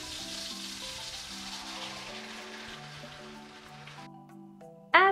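Refried beans hitting a warm pan give a bright hissing sizzle that gradually fades and cuts out near the end, heard under soft background music.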